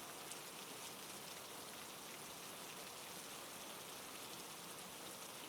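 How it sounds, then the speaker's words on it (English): Heavy rain drumming on a nylon tent roof in a forest makes a dense, steady hiss of countless drops, close and unbroken from start to finish, with no voices or other sounds. "Rain hitting the nylon roof of the tent."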